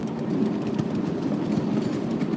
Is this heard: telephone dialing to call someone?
no